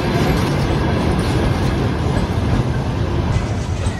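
A passenger train at a station in Bukhara, Uzbekistan, produces a loud, constant rolling rumble with steady rail noise close by, with no pause across the clip.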